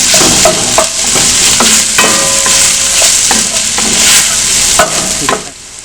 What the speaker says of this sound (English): I let the garlic, onions, and ginger cook for about 2 minutes altogether